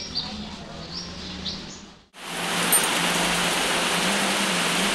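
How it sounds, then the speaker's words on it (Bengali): Heavy rain pours down near a fish market, a loud, dense, even hiss that rises abruptly after a quieter stretch with faint chirps and continues steadily with no talking. "দেখো বন্ধুরা, বৃষ্টি পড়ছে,"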